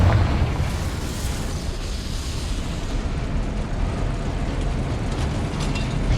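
A Confringo spell explosion in Hogwarts Legacy, a loud, dense rumbling blast that fills the whole clip as a continuous roar with no clear separate bursts, with no talk.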